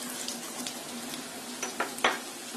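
Chopped garlic and ginger fry in hot ghee in a pan, a steady low sizzle broken by a few brief stirring scrapes near the end.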